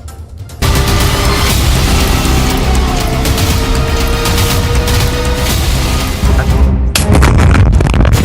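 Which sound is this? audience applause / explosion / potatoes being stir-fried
explosion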